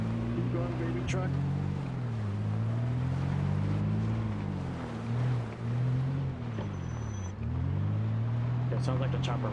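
A truck engine drives in the video game Project Zomboid, a steady low drone that rises and falls as it revs. A person talks over it throughout.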